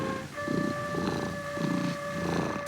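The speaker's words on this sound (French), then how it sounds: "Ça ronronne et ça griffe." A cat purring and scratching indoors beside a bed, heard as a steady, rhythmic rumble of low pulses repeating about every half second, close and clear, with a faint sustained tone running beneath it.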